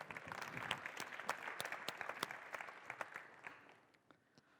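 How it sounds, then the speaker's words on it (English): An audience at a startup pitching event applauds for a team, a faint, scattered patter of claps with sharper individual hand claps standing out, fading away near the end. "Give them a round of applause"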